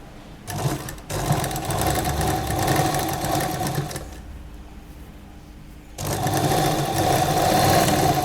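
A sewing machine stitches a channel seam on a lehenga, a line of stitching set about one foot from the edge for a drawstring. It makes two loud, close, steady runs separated by a quieter pause.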